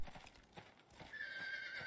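A horse in the cowboy video game Fistful of Frags gives a whinny while hooves clip-clop steadily at close range, with the sound of the game environment around them.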